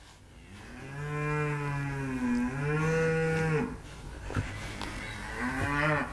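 Longhorn cows on a ranch moo loudly and close, two long drawn-out low calls followed by a shorter one, with some faint background noise and no talking.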